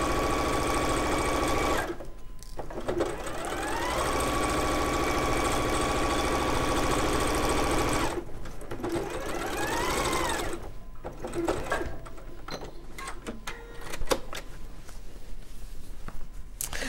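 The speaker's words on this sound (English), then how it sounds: "While Katherine's stitching that" A sewing machine stitches fabric in a sewing studio, running loud and steady in long continuous bursts with brief pauses between runs.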